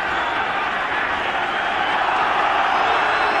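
Stadium crowd at the 1991 Rugby World Cup match between England and New Zealand, a steady loud roar of many voices with scattered clapping, sustained throughout without a break.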